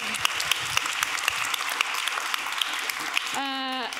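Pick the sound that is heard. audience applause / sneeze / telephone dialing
audience applause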